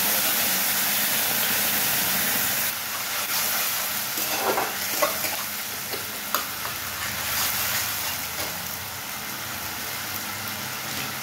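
Tomato puree sizzling and frying in a hot cooking pan at home, a steady hiss with faint stirring scrapes and a few clinks, close and continuous with no talking.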